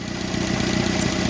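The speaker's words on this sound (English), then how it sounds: "Okay, so got the engine running," A motorcycle engine idles steadily after a carburetor float adjustment, its even mid-low rumble continuous and close throughout.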